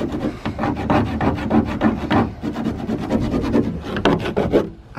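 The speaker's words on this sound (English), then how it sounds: "Scribing it out with a nut or a bolt." A nut or bolt scrapes and scribes across a Mazda Miata hood, giving a close, steady run of dense rasping strokes that continue almost without pause.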